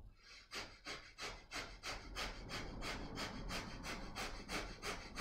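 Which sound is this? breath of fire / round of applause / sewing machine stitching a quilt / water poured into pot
breath of fire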